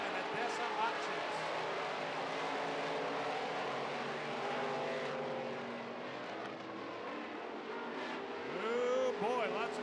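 Midwest Modified race cars roar through a heat race, several engines droning and revving together in a steady, loud wash of sound, with talk over the noise.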